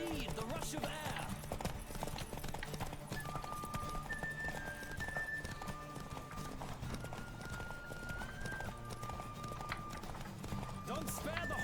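Horse hooves clip-clop at a fast gallop in The Witcher 3, a steady rhythmic run carried under game music and a talking voice for the whole stretch.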